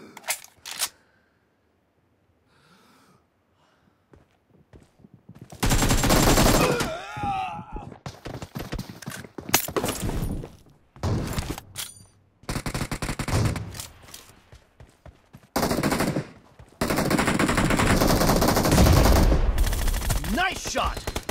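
Gunfire rattles through a video game deathmatch in long bursts of rapid automatic shots and sharp single cracks, loud and close, separated by quiet gaps, with a voice talking briefly in between.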